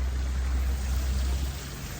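A park waterfall in Sausalito pours in a steady, rushing wash of water with a deep low rumble, close and unbroken throughout, with no voices.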